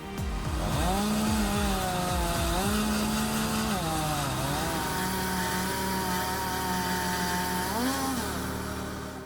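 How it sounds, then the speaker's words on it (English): A homemade DIY firewood processor saws through long, thick logs, its engine loud and steady as the pitch sags and recovers with each cut over several seconds. "Designed to handle long, thick logs, this machine cuts through them effortlessly"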